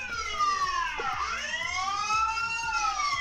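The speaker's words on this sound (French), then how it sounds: "Sonnerie d'alarme, sirène." A Tenda security camera's alarm siren wails steadily, its pitch sweeping down and back up once midway, loud and close with no voices over it.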